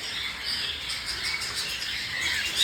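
Pet cockatiels chirp and squawk continuously at close range, a busy overlapping chatter of calls with no talking.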